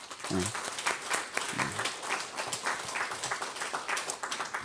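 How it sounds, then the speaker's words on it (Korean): A church congregation applauds during a Sunday service, with fairly soft, steady clapping from many hands across the room and a few brief murmurs of voices mixed in. "우리 서로 잘했다고 박수 한번 쳐드립시다"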